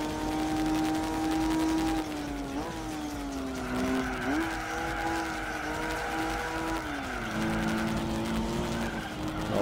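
A Ginetta G4 race car in Gran Turismo 4 holds a steady, loud engine drone that rises and shifts pitch through gear changes, with tire skidding mixed in across nearly ten seconds and no voices.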